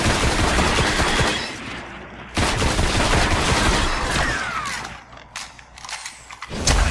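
Shotgun blasts ring out in the video game Destiny, several loud, booming shots with clanking mechanical sounds between them, spaced a couple of seconds apart.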